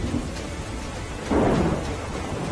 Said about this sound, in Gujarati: દ્રશ્યો લીલિયા શહેરના છે, જ્યાં વરસાદે આંખો મીચીને ધડબડાટી કરી